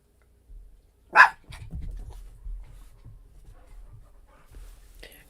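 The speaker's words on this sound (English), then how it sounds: "You guys may hear some dogs in the background." Dogs playing in the background: one short bark rings out, followed by soft panting, shuffling and scuffling noises at a moderate distance.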